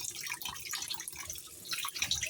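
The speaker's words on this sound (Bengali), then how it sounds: "এখন আমি পরিষ্কার করে নিতেছি চালটা" Raw rice for pulao is rinsed by hand in water, with soft splashing, trickling and sloshing across a short close stretch and no talking.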